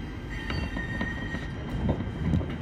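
Tram wheels running in grooved rail on line 13 between Saint-Germain-en-Laye and Fourqueux. A steady, close rumble carries a thin, sustained wheel squeal, with faint clicks and no talking.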